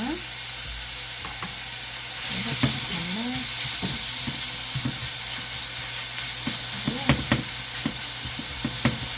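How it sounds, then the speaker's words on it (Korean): Seasoned beef stir-fried with garlic and soy sauce for japchae sizzles steadily in a hot pan, with irregular scrapes and clacks of stirring breaking through a continuous hiss, close and fairly loud, with no talking. "마지막으로 양념한 소고기를 볶아주시면 됩니다"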